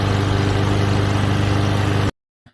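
A lawnmower engine runs before cutting tall grass, a loud, steady, close mechanical drone that stops abruptly, followed by silence and one faint knock.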